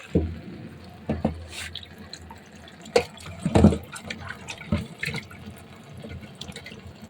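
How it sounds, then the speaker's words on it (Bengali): A fish is washed under water in a home kitchen, with intermittent splashes, drips and sloshing close by over a steady low running-water background, no talking. "মাছটা ধুয়ে নিচ্ছি হ্যাঁ মাছটা ধুয়ে নিয়ে"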